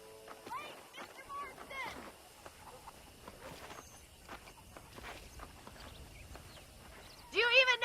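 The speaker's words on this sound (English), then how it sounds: "The horses are saddled up over here." Horse hooves clip-clop in the video game Red Dead Redemption, soft scattered steps alongside bird chirps and faint background noise, ending in a sharp, louder burst.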